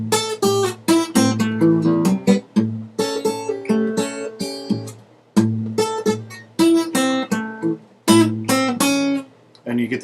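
Guitar picking a lick in A, with a slight bend on one note; bright, close plucked notes in quick phrases with bass notes underneath, repeated twice, no talking.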